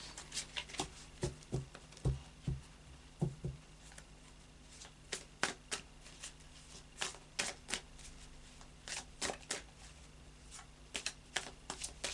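Tarot cards being shuffled and laid out on a table, with a steady run of crisp, close card snaps and soft slides repeating irregularly throughout, quiet and with no talking.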